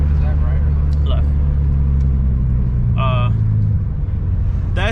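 A manual Lexus SC300 drives along with a low, steady engine rumble, a couple of short revs breaking through, while people talk inside the car over it.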